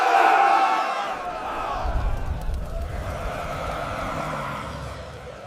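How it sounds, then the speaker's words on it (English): A large crowd roars and clamors continuously, a loud, dense wash of many voices that starts strongest and holds steady with rumbling low-end swells, impatient and restless. "The crowd is getting impatient."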